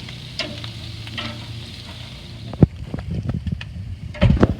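Lamb steaks sizzle steadily on a barbecue grill, a continuous close hiss broken near the end by a few sharp clanks and scraping bursts as the meat is handled.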